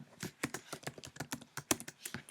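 Rapid typing on a computer keyboard, a quick irregular run of close, crisp key clicks with one louder keystroke near the end and no talking.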